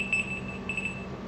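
A timer alarm beeps in a high, thin repeating tone, faint and brief over a quiet room with no talking.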